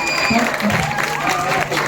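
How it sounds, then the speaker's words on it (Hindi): Brief applause from an audience at an annual function for Chotubhai Patil, a short burst of clapping with some crowd noise over a speaker's amplified voice. "जोरदार ताली हो जाए छोटू भाई पाटिल के लिए"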